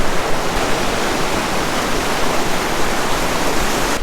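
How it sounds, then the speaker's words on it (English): Ocean white water surges and hisses around a person's feet on the shore at Barragga Bay at sunrise, a loud, continuous close wash of broadband surf. "Just got to keep an eye on the white water here. It's coming up around my feet as I speak"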